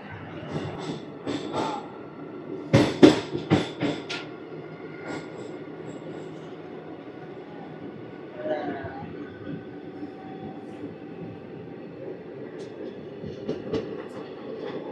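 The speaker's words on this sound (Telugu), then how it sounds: "ఒక 3 మినిట్స్ హాల్ట్ తర్వాత తాడేపల్లిగూడెం స్టేషన్ నుంచి మన ట్రైన్ స్టార్ట్ అయిపోయింది" Ratnachal Express (12718) passenger train pulling out of Tadepalligudem station after a three-minute halt, with a rumbling rolling hum, sharp metallic clanks and squeals near the start, and fainter wheel clatter continuing steadily throughout.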